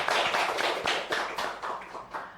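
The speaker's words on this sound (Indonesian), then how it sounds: "Boleh berikan tepuk tangan buatnya." Audience applause for a podcast guest: dense, steady clapping from a group indoors, close and loud throughout and easing slightly toward the end.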